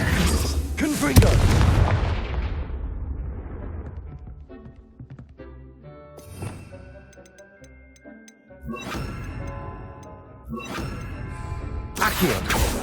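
A Confringo blasting spell explodes in the Hogwarts Legacy video game, a loud booming burst at the start followed by crackling debris, scattered impacts and further bright magical bursts amid game ambience.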